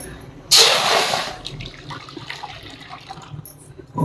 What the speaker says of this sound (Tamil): தண்ணி ஊற்றி நல்லா இந்த அளவுக்கு மிக்ஸ் பண்ணிக்கணும்.